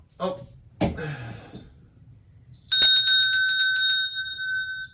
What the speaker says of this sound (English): That's the bedtime bell.